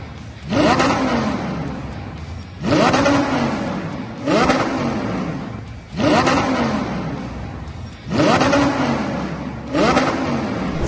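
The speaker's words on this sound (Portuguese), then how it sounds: "com o carro todo desmontado, acelerando" A stripped-down Audi R8 with its body panels removed revs its engine in repeated bursts, about five loud rising roars that each settle back to idle, close and with no talk.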